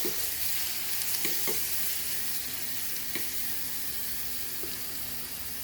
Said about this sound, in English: saute this for a while, just to remove the rawness